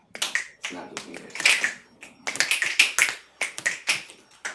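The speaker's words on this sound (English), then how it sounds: "Once again, snap your fingers." Repeated sharp finger snaps in uneven bursts, mixed with a person talking.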